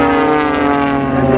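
The Blades aerobatic display team's propeller aircraft pulls up into its final manoeuvre at the Farnborough International Airshow 2012, giving a loud, steady, drawn-out engine drone throughout with no break.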